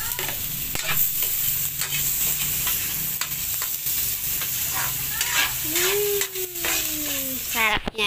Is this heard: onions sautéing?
yes